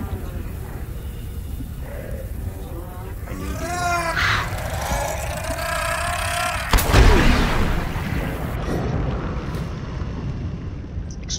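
Explosions go off in Subnautica over a steady rumbling game ambience, with one sharp, heavy boom past the middle of the clip and lighter blasts and whooshes around it.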